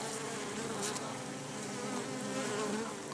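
Bees swarming over a hive frame at an apiary: a dense, continuous buzzing drone close to the listener, steady throughout with no speech.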